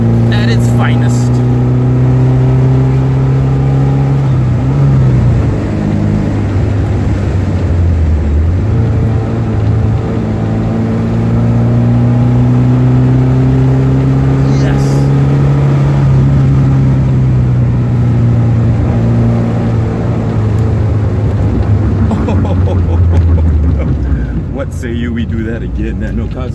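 A 1979 Alfa Romeo Alfetta 2.0 engine drones steadily on an evening drive, its pitch rising and falling through gear changes, loud and close, with someone talking over it for much of the time.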